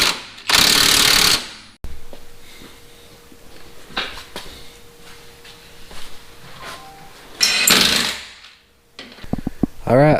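Bolts on an Iron Rock 3-link suspension arm of a Jeep Cherokee XJ are tightened with a ratchet, giving quick clicking runs near the start and around the eight-second mark, with scattered mechanical taps and clanks between them.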